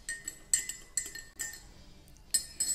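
Metal spoon clinking against a glass of water while stirring in a tablespoon of sugar and a pinch of salt, a few bright taps in quick bursts with short pauses, close and fairly quiet.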